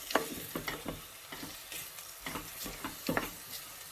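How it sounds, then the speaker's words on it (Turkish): Lamb meat sautéing with olive oil in a pan for a Cretan-style dish with sea vegetables, giving a steady close sizzle broken by repeated scraping stirs roughly every half second. "geri kalan zeytinyağımı da ilave edip bir güzel biraz daha bu etle beraber kavuracağım"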